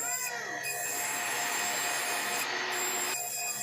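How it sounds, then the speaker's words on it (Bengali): Rust is scrubbed off the metal body of a Tullu water pump motor, a continuous harsh rasping rub, close and loud, with squealing scraping tones running throughout and no pauses. "তো বন্ধুরা দেখুন ঘষার সময় কত চকচক করছে, জং কিন্তু সব উঠে যাচ্ছে।"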